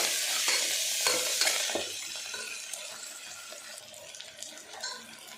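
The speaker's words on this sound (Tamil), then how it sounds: "மல்லித்தலை இது எல்லாத்தையும் நல்லா வதக்கி வச்சுருவோம்" Coriander, crushed garlic and vegetables sauté in a hot pan, a dense continuous sizzle with scraping stirring strokes, loudest early on and then settling to a steady frying hiss, with no talking.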